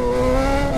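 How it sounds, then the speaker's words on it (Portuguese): A Honda CB1000 motorcycle engine holds a loud, steady revving drone, close and alone, in one brief burst as the throttle is let go. "Meu Deus do céu, soltei o acelerador com tudo"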